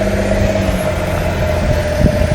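Chevrolet Trailblazer AWD RS crossover engine working under throttle off road, a steady mid-pitched engine hum with a sustained tone and some bumps and thumps near the end, close and fairly loud, no talking.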